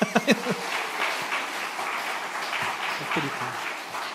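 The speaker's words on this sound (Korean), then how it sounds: "박수 한번 하십시오" A church congregation bursts into applause during a Sunday service: dense, steady clapping from many hands fills the room, opening with a few sharp individual claps and holding at an even level throughout.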